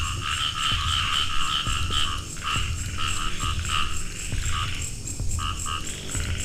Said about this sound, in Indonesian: suara kodoknya mulai makin kenceng